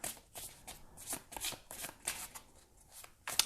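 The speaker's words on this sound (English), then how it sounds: "Let me shuffle" A deck of tarot cards is shuffled by hand close up, a series of quick papery riffles and soft slaps in an uneven rhythm, with no talking.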